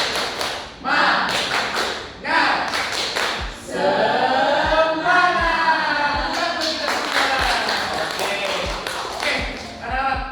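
Primary school children in a classroom chant the "tepuk semangat" clapping routine, sharp claps falling in time between bursts of group voices.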